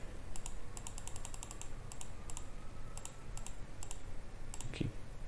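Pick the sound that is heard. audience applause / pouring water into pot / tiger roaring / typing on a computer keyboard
typing on a computer keyboard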